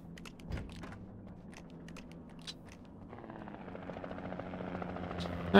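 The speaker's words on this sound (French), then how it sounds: "Ah, l'hélico." A helicopter approaches in the video game Alan Wake, a rotor thrum building steadily from faint to louder over several seconds under scattered light clicks.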